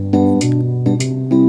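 A keyboard plays a few sustained chords one after another, each change marked by a soft attack, fairly loud and close.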